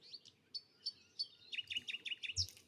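Bananaquits chirping in a Brazilian tropical forest: a run of high, thin tweets, spaced at first and then coming in a quicker, busier burst, moderately close over a soft ambient hush.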